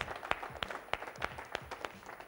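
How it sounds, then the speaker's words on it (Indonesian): Sparse, quiet clapping from a small audience after a question in a talk on overcoming mental blocks, a few distinct claps in an uneven rhythm, faint and close. "pertanyaan sangat excellent, tepuk tangan dong buat Ibu Aan."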